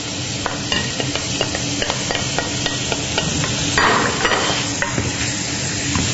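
Onion hits a pan with smoked bacon, a close, loud sizzle with rapid rhythmic spoon clacks against the pan as it is stirred, and a brief hiss surge midway; no one speaks.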